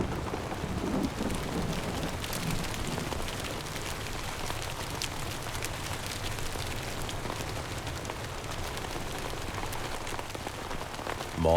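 Rain falls on a young volcanic island, a soft, steady patter with light wind running evenly throughout, with no voices.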